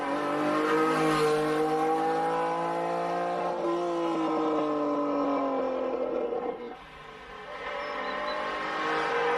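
A Ferrari Dino 246 race car drives on a circuit, its engine a steady, buzzing multi-cylinder drone with rising and falling revs. A brief dip comes as it lifts off the throttle, then it climbs back up, heard moderately far off.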